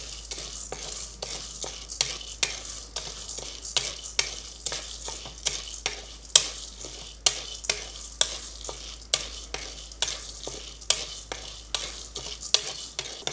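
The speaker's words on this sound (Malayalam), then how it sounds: "നമുക്ക് കടല ഒന്ന് അല്പം ഒന്ന് ചൂടാക്കി എടുക്കാം. ഒരുപാട് വറുക്കരുത്, നിറം ഒന്ന് മാറരുത്," Peanuts being lightly dry-roasted in a hot pan for a spice podi, stirred with a utensil in a long series of crisp scraping, rattling strokes at a fairly regular pace, close and without speech.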